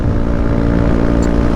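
A 125cc motorcycle fitted with an LV GP One full exhaust system idles or runs steadily up close, its loud, continuous engine note carrying a dense low throb with no pauses and no voices.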